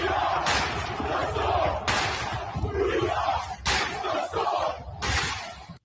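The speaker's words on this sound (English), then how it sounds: "So just we are, clap, the storm, clap. Just keep saying that, over and over." Sports fans chanting in rhythmic bursts, loud shouted phrases repeated several times with heavy crowd noise between them, close and energetic.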